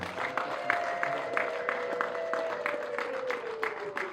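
A crowd claps in a steady, quick rhythm while a sustained, wavering ululation rings over the top at a lively celebration. The sound is close and continuous for the whole stretch.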